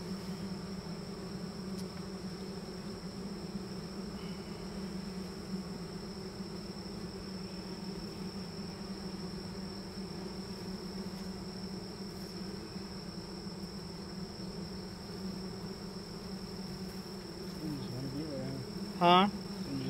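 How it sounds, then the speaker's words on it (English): Honeybees buzz around a horizontal hive on a farm, a steady, continuous drone with a faint insect whine, and a louder buzz briefly passes close near the end. "Bees all over the side."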